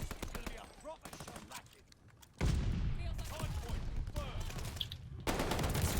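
A two-shot NZ 41 shotgun in Call of Duty Vanguard fires in sharp, loud blasts amid bursts of other gunfire, with players talking over the action.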